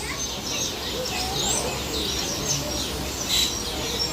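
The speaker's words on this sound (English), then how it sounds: "some birds here with this fish in a waterfall" Tropical birds chirp and tweet steadily around a waterfall exhibit with fish at a zoo, under constant rushing water and the murmur of a crowd.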